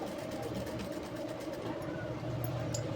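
A sewing machine runs a top-stitch along jumpsuit fabric, a continuous humming motor drone with a rapid needle chatter, close and steady throughout.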